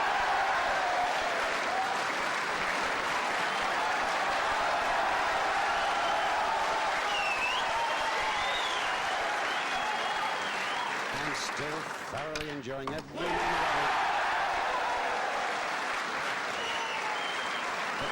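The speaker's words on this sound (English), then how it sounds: "The crowd here at the Crucible are going mad for Bradford's Joe Johnson." Crowd at the Crucible applauding loudly and continuously throughout a snooker world final, with a commentator's voice over the sustained clapping.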